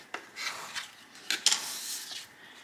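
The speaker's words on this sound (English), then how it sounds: "Then with your credit card or a squeegee, simply just squeegee that really good." A squeegee or credit card rubs firmly over a vinyl racing stripe decal in a series of short, dry scraping strokes, close and fairly quiet, with no talk.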